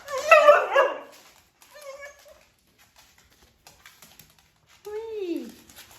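A small dog barks and yips in short bursts, with a whimpering, rising whine near the end, close by and loud between quiet pauses.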